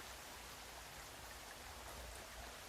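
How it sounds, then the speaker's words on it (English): Rain falling in the survival video game The Forest: a steady, faint hiss of rainfall with fine patter, continuous and unchanging throughout, with no voices. "It's still raining."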